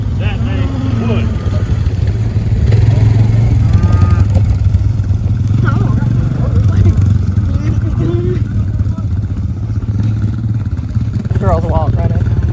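A four-wheeler utility vehicle, a mule, drives along on a cattle drive, its steady engine drone running throughout under people talking nearby.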